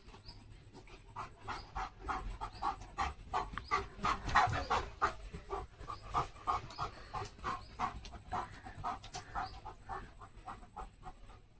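A German Shepherd panting heavily and rhythmically up close, with quick, regular breaths continuing throughout and faint bird sounds in the background.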